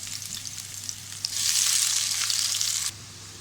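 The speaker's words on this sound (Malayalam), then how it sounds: "2 ടേബിൾ സ്പൂൺ വെളിച്ചെണ്ണ ഒഴിച്ച് അതിലേക്ക് വെള്ളുള്ളി ചേർത്ത് കൊടുക്കാം." Garlic drops into hot coconut oil in a pressure cooker, and a mild sizzle swells into a loud, bright, steady hiss that cuts off sharply after about a second and a half.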